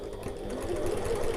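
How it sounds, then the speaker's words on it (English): Sewing machine stitching fabric along the short end of a sling bag, a close, steady rapid whirring hum running continuously without pause. "sew along the short end, back round."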